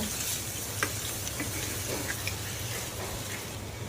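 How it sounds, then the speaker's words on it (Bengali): A soft, steady sizzle of hilsa fish coated in spices frying in hot oil in a frying pan, with faint scattered pops and crackles, fairly quiet and continuous. "ফ্রাই প্যানে তেল গরম দিব, মাছগুলোকে ভালোভাবে মাখিয়ে সব ফ্রাই প্যানে"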